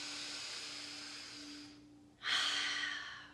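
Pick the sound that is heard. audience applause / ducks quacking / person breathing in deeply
person breathing in deeply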